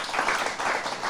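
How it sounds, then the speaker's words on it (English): A brief burst of steady audience applause at a book launch, filling the space for about a second. "Fatma, a big round of applause."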